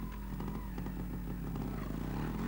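A trials motorcycle from 1986 competition runs through its gears, engine note climbing and clattering close by as it shifts up.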